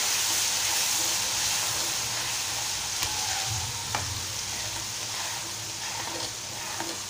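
Milk poured gradually into hot sheera for Satyanarayan prasad makes a strong, steady sizzling hiss close by, with faint scrapes of stirring and a few small clicks.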